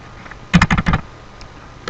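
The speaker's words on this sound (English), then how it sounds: "then type 21" A quick run of about five sharp keystrokes on a computer keyboard, close and loud, followed by a single key press near the end.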